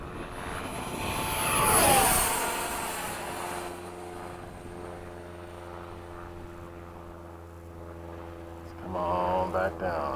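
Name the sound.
FMS 70mm F/A-18 RC jet flying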